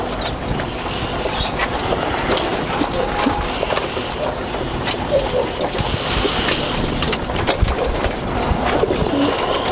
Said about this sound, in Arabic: طبعا كده الحمام ياكل براحته.